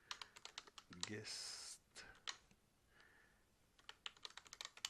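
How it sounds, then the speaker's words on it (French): Fast typing on a computer keyboard while installing Fedora 26 in a VirtualBox virtual machine: rapid clusters of close key clicks with a brief spoken word in the middle. "quand on tape vite"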